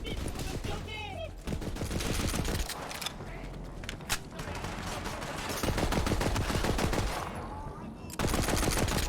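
Rapid bursts of gunfire from the video game Borderlands 3, dense and loud, with repeated automatic volleys layered over game music and effects, nearly continuous with only a few short lulls.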